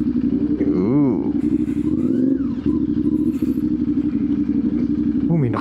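A big motorcycle passes close by with a loud, rumbling engine drone and a pitch sweep as it goes, while a voice talks over it near the end.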